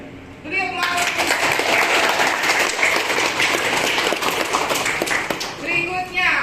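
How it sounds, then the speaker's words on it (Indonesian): Students in a mathematics classroom applaud a classmate, a loud, sustained burst of dense clapping lasting several seconds, with voices just before it starts and as it dies away. "Beri aplaus."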